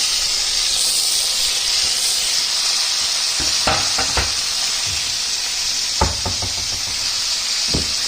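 Onions cooked in oil with tomatoes added for shavige bath, a constant loud hissing sizzle with several sharp spoon clacks against the pan, close by, no talking.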